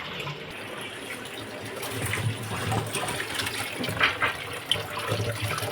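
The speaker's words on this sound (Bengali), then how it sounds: "এই যে মাংসটা আমি ধুচ্ছি," Meat being washed by hand under a running kitchen tap, a steady close stream of water with splashing and sloshing throughout, no talk.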